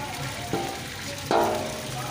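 Three kilos of tomatoes frying in hot oil for chicken kadhai, with a soft continuous sizzle broken by two louder bursts of splatter as they stir, at low level and without talk.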